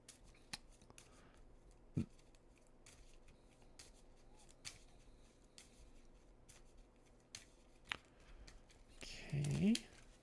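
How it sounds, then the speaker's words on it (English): A deck of Mage Knight board game cards is shuffled in short bursts of riffling and sliding among soft table taps and handling noises, quiet overall, with a louder flurry near the end. "Shuffle, shuffle, shuffle. That is our deck, and then we shuffle you up."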